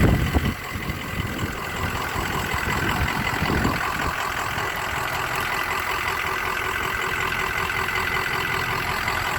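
A 2003 Ford F350 with a 64mm turbo, 4-inch exhaust and muffler idles steadily, a high turbo whistle sitting over the low engine rumble, loud and close for the whole stretch with no one talking.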